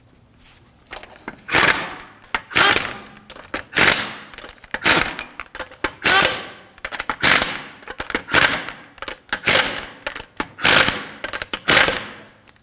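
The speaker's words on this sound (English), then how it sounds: "Now, snug down the lug nuts." Bursts of mechanical ratcheting, likely an impact wrench, spin the wheel lug nuts snug on a Subaru XV Crosstrek, close and loud, repeating roughly every second with short gaps between pulls.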